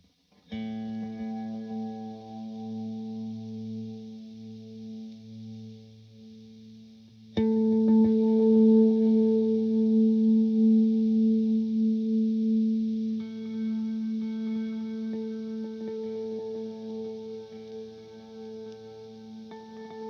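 Sustained, heavily processed guitar tones swell through an Empress Zoia running a Microcosmos patch that emulates the Soma Cosmos, with layered echoes and shimmering repeats. The sound grows louder and denser about a third of the way in, with no talking.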